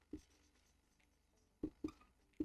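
Pen strokes write out a maths solution on paper, heard as a few short, soft scratches spaced across a quiet moment.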